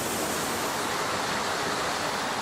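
Water pours steadily past a water-powered Tibetan prayer wheel, giving a dense, even rushing hiss that never stops or changes.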